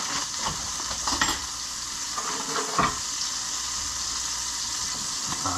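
Sausage frying on a hot griddle, giving a quiet, continuous hiss with a few faint scrapes and clicks on top, close by and without speech.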